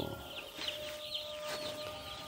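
Broiler chickens in a brooding house cluck in scattered soft calls over a steady background hum, faint and somewhat distant.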